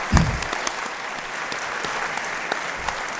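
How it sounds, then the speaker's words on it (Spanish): Applause from a studio audience at a television talk show, a dense steady clapping that starts abruptly and holds at an even level, close and full. "Un aplauso os pido para este gigantón guanche."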